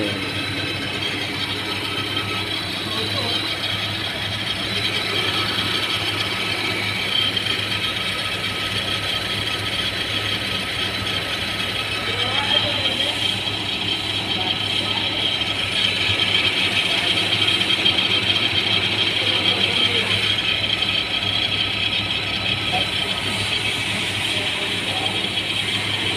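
A car engine idles with a noisy fuel pump and fault codes P0190 and P1086, giving a steady mechanical drone with a faint ratcheting rattle throughout and no clear speech.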